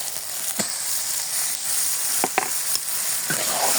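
Chicken pieces frying in a pan of cooked spice paste with onion and green chilies for biryani, a steady close sizzle with a few sharp clicks of stirring.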